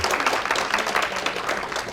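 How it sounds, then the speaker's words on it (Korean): A church congregation applauds during a service, a steady, dense patter of many hands clapping together for two seconds. "박수 한번 쳐주세요"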